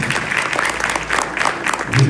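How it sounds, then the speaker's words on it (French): An audience applauds a dance academy's children's performance at an evening show, a short burst of dense, energetic clapping with a voice speaking over it. "Je vous demande encore de les applaudir chaudement, s'il vous plaît."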